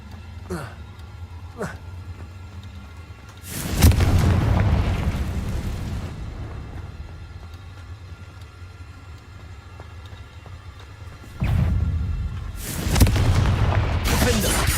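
In the Hogwarts Legacy video game, the Confringo explosive spell lets off two heavy booming blasts, each a sudden loud burst that rumbles away over a few seconds. Lighter game sounds come before and between them.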